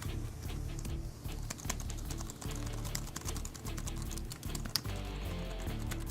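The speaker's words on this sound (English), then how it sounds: "I have a quiet keyboard. It just gets picked up really easily." Typing on a quiet computer keyboard picked up by a nearby microphone, a fast, continuous patter of soft key clicks at moderate level that runs through the whole clip with no talk.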